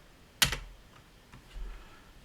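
A few keystrokes on a computer keyboard while logging into an Ubuntu machine, one sharp near press followed by softer scattered taps, quiet and alone.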